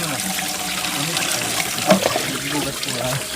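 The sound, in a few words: water running while washing a container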